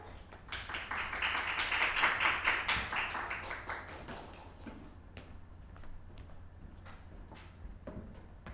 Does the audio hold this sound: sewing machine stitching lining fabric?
no